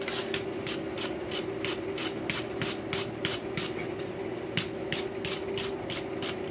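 A forged rail spike is brushed off with quick, regular scraping strokes, about three per second, over a steady background hum.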